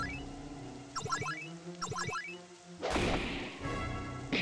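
A Soul Shatter attack striking ghosts in the game War of Harmony IV: two quick chiming sweeps followed by a heavy crashing burst, close and loud, with no talk.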